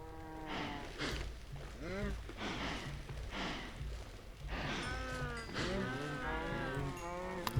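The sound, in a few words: cows mooing in the video game Minecraft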